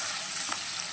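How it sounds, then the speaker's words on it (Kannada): Onions and dry red chillies fry in hot oil in a pan for an Indian potato curry, a steady close hiss with one brief stir near the middle. "ಮತ್ತು ಅದರಲ್ಲಿ ಈರುಳ್ಳಿ ಹಾಕ್ತೇನೆ ಈಗ ಎಲ್ಲ ಐಟಮ್ ಇದು ಎಣ್ಣೆಯಲ್ಲೇ ನೀವು ಹುರಿಬೇಕು"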